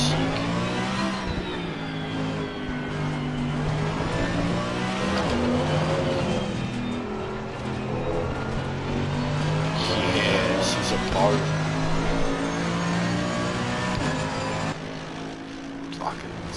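A race car engine in the racing game Assetto Corsa Competizione revs hard, its droning whine climbing and falling through gear changes in a continuous, loud run.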